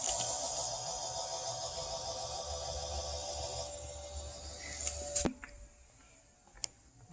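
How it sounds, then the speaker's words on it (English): The electric fuel pump of a long-stored car with a 350 engine runs with a steady, faint mechanical whine and buzz, then cuts off abruptly, leaving a few soft clicks. "I can hear a fuel pump."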